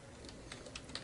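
Quick, light keystrokes on a computer keyboard while entering text into a file on a Linux system, a handful of soft clicks at a close distance over a low room hum.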